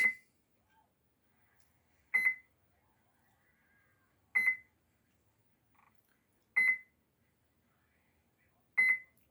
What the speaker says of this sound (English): this beeping sound is because the boat's not armed